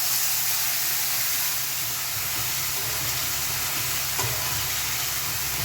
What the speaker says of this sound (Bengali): এবার একটু জল অ্যাড করছি।